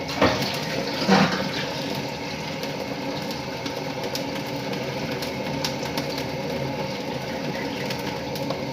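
Water runs steadily into a cooking pot for soaking goat trotters in a home kitchen, a continuous splashing pour with a couple of louder clunks near the start.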